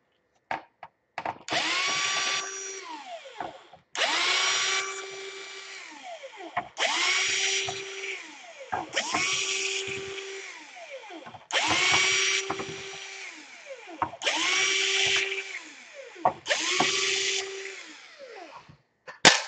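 Cordless power drill unscrewing the screws from the underside of an Asus A53S/K53S laptop, running in about seven loud whirring bursts of a couple of seconds each, the pitch winding down at the end of each burst, with short pauses between.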